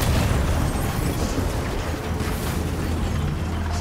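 A tank explosion in Death Stranding gives a loud, rumbling boom that fills the whole stretch with a steady, heavy roar and no talking.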